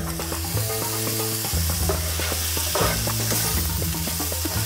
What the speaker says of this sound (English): We're just gonna saute these.